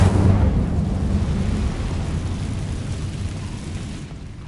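Incendio fire spell from the Hogwarts Legacy video game: a loud whooshing burst of fire that rumbles and slowly fades over several seconds, with no talking.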